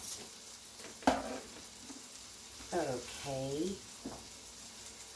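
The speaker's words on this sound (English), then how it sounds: "We're just going to brown them." Salisbury steak patties brown in a frying pan with a quiet, steady sizzle, broken by one sharp metallic clank of a spatula; a voice speaks briefly over the cooking.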